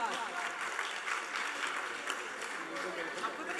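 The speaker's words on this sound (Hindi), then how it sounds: "जोरदार तालियां एक बार।" An audience at a Jain pichhika-change ceremony claps in a dense, sustained burst, with voices talking over the applause throughout.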